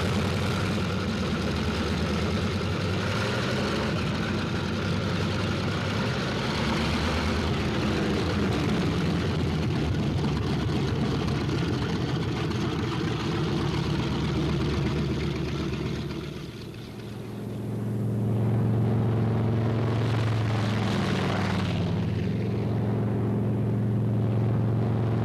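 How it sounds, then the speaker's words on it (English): Engines of World War II P-47 Thunderbolt single-engine fighter planes warming up on an airfield, a loud, continuous propeller-engine roar and rumble that dips briefly before swelling again, with no voices. "On the field, planes warm up. It's takeoff time for the Thunderbolts."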